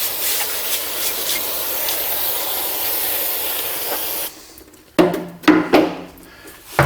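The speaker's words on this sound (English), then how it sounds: "And then you just run it over it with your brake cleaner, and that'll dry the parts cleaner off of there," Brake cleaner is sprayed over rear brake parts on a 1982 Chevrolet C10. A continuous loud aerosol hiss runs for several seconds, then gives way to scattered clanks and knocks of handled parts.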